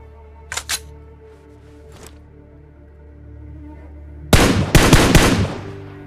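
A few sharp gunshots crack early on, then a loud rapid burst of automatic fire follows in PUBG Mobile gameplay, over a steady droning background hum.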